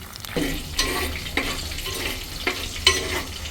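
Small onions (shallots) sautéing in oil until golden, a close continuous sizzle broken by repeated rhythmic stirring scrapes of a spoon against the pan.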